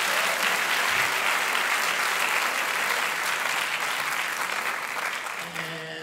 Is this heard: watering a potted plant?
no